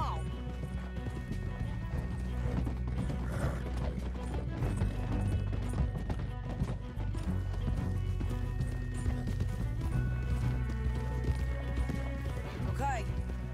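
Horses ride in the Red Dead Redemption video game, with steady rhythmic hoofbeats clip-clopping throughout, an occasional whinny, and a layered game soundscape beneath.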